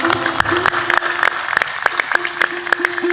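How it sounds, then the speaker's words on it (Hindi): An audience clapping in response to a call for applause at a spiritual discourse, scattered uneven claps close by with a steady tonal hum underneath. "इनके लिए जरा जोरदार ताली बजाओ"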